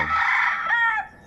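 A Chinese silkie chicken gives a short, close cluck-like crow lasting about a second, rising then trailing off, with no other sounds around it.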